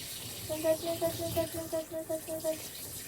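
Water is poured from a container in a village home, making a close, rhythmic glugging gurgle of about a dozen quick pulses over a quiet background.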